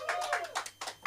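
A comedy club audience claps for a comedian, a few separate bursts of applause over about a second, fairly close with no voices over it.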